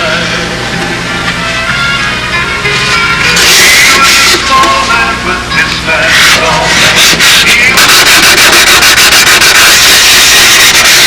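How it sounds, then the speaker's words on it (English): Sandpaper worked over a glue seam on a model airplane wing, a loud close rasping rub in long back-and-forth strokes that grows harsher and faster partway through, with no voices. "then I run the glue seam again and then sand it out again."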